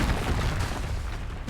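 An Incendio fire spell is cast in Hogwarts Legacy as a dense, close, roaring burst of flame and rumble that fills the short moment before trailing off.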